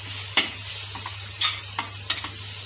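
Spices frying in a pan for bhindi do pyaaza, an okra dish, give a soft steady sizzle broken by several brisk stirring scrapes at irregular intervals.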